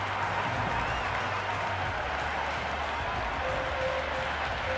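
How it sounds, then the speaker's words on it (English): Stadium crowd in the Cricket 26 video game, a continuous wash of cheering and applause that holds steady throughout, loud and dense, with no talk over it. "The crowd are really getting quite raucous."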